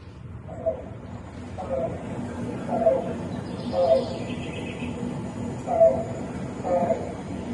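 Black-billed cuckoo call played back as a recording, a series of six evenly spaced soft hollow notes repeating about once a second, faint against room noise.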